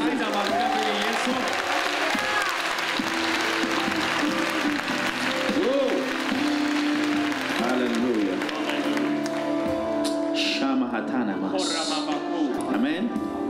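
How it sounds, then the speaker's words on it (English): A church congregation claps their hands during a prophetic and teaching service, loud sustained clapping and cheering with voices mixed in throughout. "Clap your hand for Jesus."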